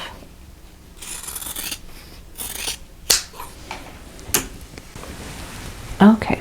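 Scissors snip and trim fabric pieces for a quilt block, a few short crisp cuts and rubbing sounds spread out, with quiet talking over parts of it.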